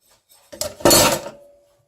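A mixing bowl holding sticky bread dough is pulled free of a stand mixer, making a short scraping clatter of metal and ceramic that lasts about half a second.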